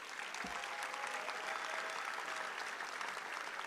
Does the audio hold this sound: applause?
yes